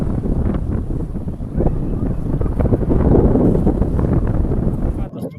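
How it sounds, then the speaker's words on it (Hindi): Strong wind buffets the microphone with a loud, continuous low roar and rumbling gusts throughout. "बाहर इतना तेज़ हवा इस समय है कि वीडियो शूट करने में बड़ा मुश्किल होगा।"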